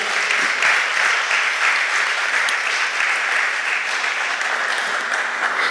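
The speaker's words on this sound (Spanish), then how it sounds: "¿Por qué no le damos un fuerte aplauso al Señor?" A church congregation applauds the Lord, dense sustained clapping from a crowd filling the room, steady and loud throughout.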